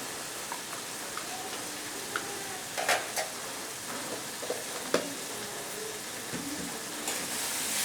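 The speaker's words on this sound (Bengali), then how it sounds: "চিংড়ি মাছটা একসাথে মশলার সাথে ভাজাও হয়ে যাবে, আর চিংড়ি মাছগুলো শক্তও হবে না" Salt-and-turmeric marinated prawns fry with spices in a pan, giving a soft, steady sizzle with scattered crackles and a few spatula clicks, quiet and close with no talking.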